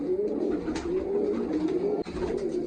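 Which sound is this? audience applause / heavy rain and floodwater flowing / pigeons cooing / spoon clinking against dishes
pigeons cooing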